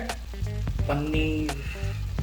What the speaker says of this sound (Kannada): ಪನ್ನೀರ್ ಸ್ಪೂನ್ ಯೂಸ್ ಮಾಡಿ ಸ್ವಲ್ಪ ಅದನ್ನು ಮಿಕ್ಸ್ ಮಾಡ್ತಾ ಇದ್ದೀನಿ ನಾನು